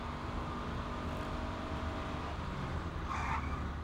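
A joyrider's car races the wrong way down a one-way street through oncoming traffic, its engine a steady, fairly distant roar with a brief tyre-squeal-like screech near the end, all under a constant street din.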